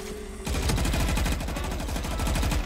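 Gunfire in Valorant: a rapid automatic burst of shots, dense and evenly spaced, that starts abruptly after a brief quiet moment and runs continuously to the end.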